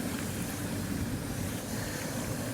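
Steady, broadband rumbling hum of factory machinery beside a river, a continuous dense wash of noise mixed with water and wind buffeting the microphone, unchanging throughout with no voices.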